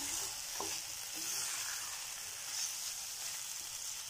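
Chicken and masala sautéing in a pan for a dhaba-style chicken curry, with lemon and salt added, giving a steady bright sizzle and a few stirring scrapes throughout, with no talk.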